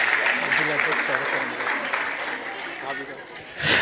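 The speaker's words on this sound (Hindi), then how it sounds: "मैं सभी से यहाँ पर निवेदन करूंगा कि जोरदार तालियों के साथ उनका भी आप स्वागत वंदन अभिनंदन करें।" Audience applause welcoming guests at a Kushwaha community gathering in Bhopal, a broad sustained clatter of many hands under a steady hum of voices, swelling again at the very end.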